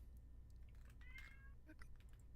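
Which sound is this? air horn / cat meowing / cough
cat meowing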